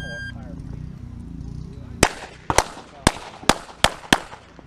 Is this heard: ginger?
no